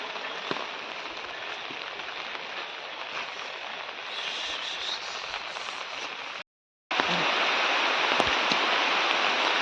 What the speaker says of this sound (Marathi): पाऊस कंटिन्यू चालू आहे गावाला जास्त जोरात नाही थोडा थोडा आहे पण कंटिन्यू चालू आहे